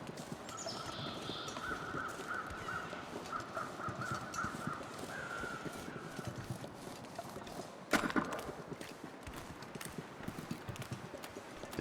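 Crows cawing in the snowy survival game The Long Dark, repeated harsh calls over a steady crunch of footsteps, with a louder thump near the end.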